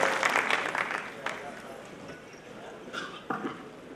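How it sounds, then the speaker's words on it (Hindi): Applause for the mayor at an award ceremony swells loudly at first, then thins into scattered claps and fades, with a few sharp claps near the end. "जोरदार तालियों के साथ एक बार फिर से मेयर मैडम का अभिनंदन एवं स्वागत"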